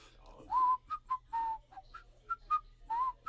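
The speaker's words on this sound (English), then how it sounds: "you ever seen someone whistle in between smoke rings?" A person whistles a short, halting tune of separate high notes, close and clear against a quiet background with a low hum.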